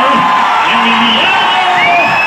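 A large crowd cheers loudly for World Cup-winning Argentine goalkeeper Emiliano Martinez, a dense roar of whoops and high shouts that fills every moment.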